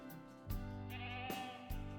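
Feral goats in the hunting game Way of the Hunter bleat three times in quick succession, nasal and wavering, fairly close and clear against a quiet background.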